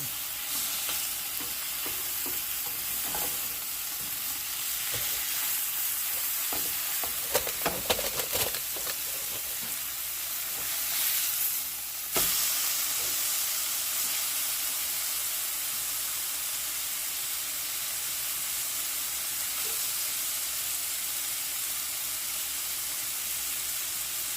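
Salmon sizzles steadily in a pan without added oil as it is stirred and flipped, a continuous bright frying hiss with a brief louder burst of crackle midway, no talking.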